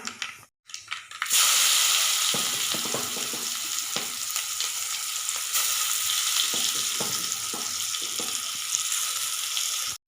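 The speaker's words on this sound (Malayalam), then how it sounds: "നമുക്കിതിലേക്ക് ചതച്ച് വെച്ചിരിക്കുന്ന ഇഞ്ചിയും വെളുത്തുള്ളിയും കൊച്ചുള്ളിയും ചേർക്കാം." Crushed ginger, garlic and shallots frying in hot oil with mustard seeds and fenugreek for a sardine curry, a loud sudden burst of sizzling that holds as a steady hiss, dotted with stirring scrapes, no talking.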